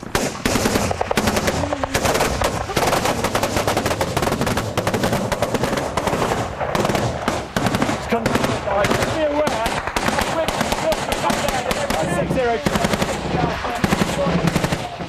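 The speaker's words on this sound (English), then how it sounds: "Taking small arms fire and RPG about 200 metres to our front" Dense small arms and machine gun fire in a firefight against the Taliban in Afghanistan, continuous loud bursts and cracks throughout, with voices shouting under the shooting.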